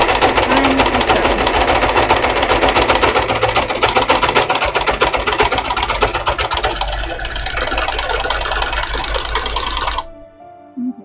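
A sewing machine stitches cosplay fabric in a fast, even run of mechanical clatter that goes on for about ten seconds, loud and close, then stops abruptly and leaves a few faint clicks.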